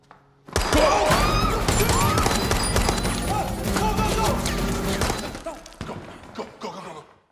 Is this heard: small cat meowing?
no